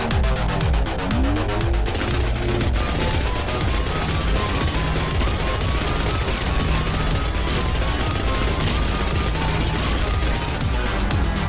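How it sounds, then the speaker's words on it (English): A plasma gatling blasting away at a huge machine boss in the game Hovership Havoc, a dense, nonstop stream of loud rapid-fire shots and explosions filling the whole stretch. "I didn't even need to stop firing here."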